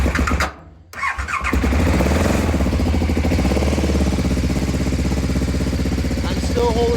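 A KTM 1190 motorcycle engine cranks and catches, then runs rough and uneven with the throttle held half open, a loud close sputtering roar that wavers throughout with a brief squeal near the end.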